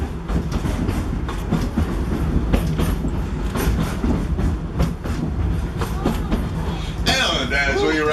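Open-air safari train at Disney's Animal Kingdom rolling steadily along its tracks, with a continuous rumble and rhythmic wheel clatter throughout, a ride announcer's voice talking over it, and a sharper squeal near the end.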